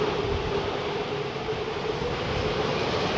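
An airliner at London Heathrow during Storm Franklin gives off a faint, steady engine drone with a sustained hum, heard from a distance through windy, rushing background noise.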